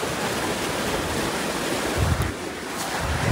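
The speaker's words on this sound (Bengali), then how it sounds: "পানির স্রোত বোঝা যায় পানি যাইতেছে" Water current rushing through an irrigated wetland while it is being pumped out for fishing. A continuous broadband wash of flowing water, loud and close, with no voices.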